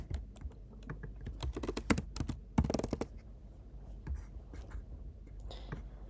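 Someone types on a computer keyboard while editing code in a web app, with quiet, irregular bursts of close key clicks and a few sharper taps.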